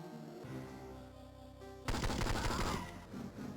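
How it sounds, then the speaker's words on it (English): Gunfire from the Game Boy Advance game 007: Nightfire (2003) bursts out as a dense, rapid volley partway through, over steady game music and effects, with no talk. "Can I hear gunshots?"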